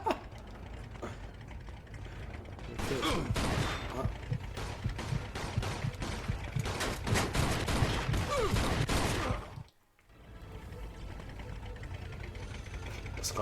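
Rapid bursts of gunfire in the video game Mafia 2 crackle almost continuously, with mechanical clicks and a brief silent gap before the shooting resumes more quietly.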